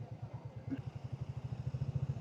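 Royal Enfield Bullet 350 motorcycle weaving through congested Singapore traffic, its single-cylinder engine giving a steady, close, rhythmic thump throughout.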